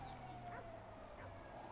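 A dog in the game GTA V barks and whimpers in short, yipping bursts over steady background game noise, fairly quiet throughout.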